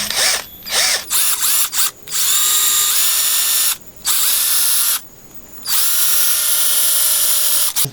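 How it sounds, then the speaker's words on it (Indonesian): An electric drill bores into a miniature bonsai, whining in long, loud runs, starting and stopping several times with short silent breaks and pitch shifts as the motor spins up. "sementara ini saya bor dulu ya"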